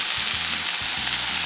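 Seeds sizzle steadily in browned butter in a hot pan, a continuous close crackling fry with faint low stirring bumps underneath and no voices.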